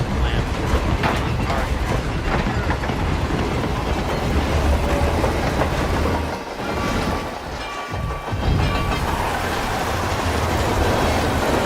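A moving train in the video game Hitman 3 gives a steady, loud rumble with rail clatter throughout, dipping briefly in the middle, while voices talk over it.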